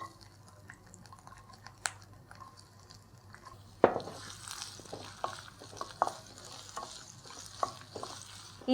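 Ginger and cumin fry in ghee, giving a soft, low sizzle that grows busier halfway through, with scattered stirring clicks and scrapes against the pan and no talk.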